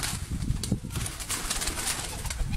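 Lakha pigeons coo softly and steadily at close range, a low murmuring bubbling with faint rustles and scattered higher chirps, no talking.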